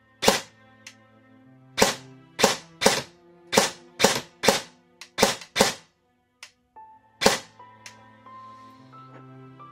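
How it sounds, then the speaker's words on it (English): Airsoft gun fitted with a V1 MOSFET firing about a dozen sharp, loud single shots at an uneven semi-auto pace, each with a crisp crack, alongside faint mechanical whirs and clicks between shots. "And as you can hear, it fires quite nicely."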